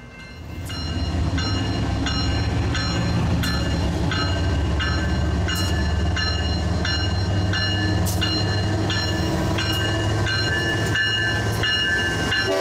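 An intermodal freight train departs a rail yard at slow speed, with a loud, close, continuous rumble of heavy wagons and repeated sharp squeals and clanks from wheels and couplings throughout.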